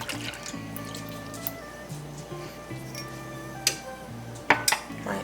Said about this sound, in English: I'm going to add my milk